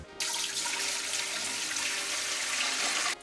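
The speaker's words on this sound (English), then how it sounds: "What I'm gonna do is add most of it to the mixer and leave a tiny bit back." Roughly 4.5 kilograms of water pours steadily into a dough mixer for several seconds, a close, even rushing splash that starts and stops abruptly.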